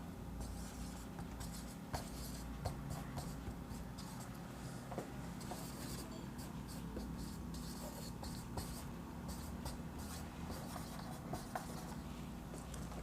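A pen scratching across paper in handwriting, faint continuous scribbling strokes with small taps, close but quiet against a steady low room hum, no talking.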